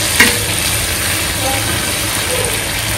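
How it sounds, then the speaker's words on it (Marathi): Prawns sizzle in a pan and are given a brief stir, a steady loud frying hiss with a low hum beneath and a quick utensil tap near the start. "थोडंसं हलवते मी त्याला, म्हणजे खाली लागणार नाही"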